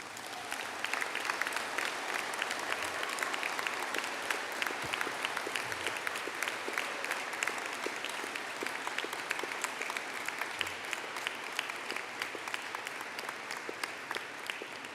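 Sustained applause from a large graduation ceremony audience honouring the first MSc Software Design with Artificial Intelligence graduates, a dense, steady wash of many hands clapping throughout without a break.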